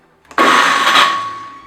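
A household blender whirs with water for homemade paper pulp, starting abruptly after a brief click, then holding a loud, broad steady roar that slowly fades slightly, with no talk.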